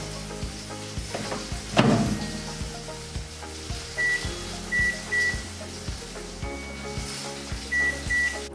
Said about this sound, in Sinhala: දැන් මයික්‍රෝවේව් එකට නාන විනාඩි 5ක් එක පැත්තක් දාලා